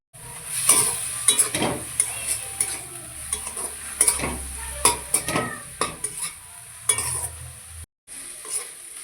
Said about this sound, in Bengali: আদা রসুন আর কাঁচা লঙ্কা পেস্ট দিয়ে দিয়েছি। এবার এটাকে একটু ভেজে নেব।